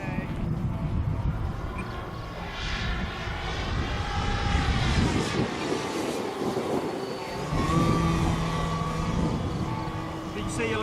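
A large electric-powered RC airplane, a Pober Pixie with a 118-inch wingspan, whines steadily down a runway, its motor tone shifting in pitch as it passes, with people talking over it.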